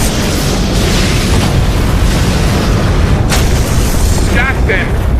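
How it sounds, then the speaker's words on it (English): Massive deep booming explosions from a sci-fi action movie roll on continuously, loud and dense, with spoken dialogue over them. "Massive secondary explosions."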